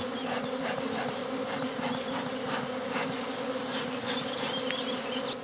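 A honeybee swarm entering a hive at an apiary, a dense, steady buzzing drone of many bees close by, humming continuously with no voices.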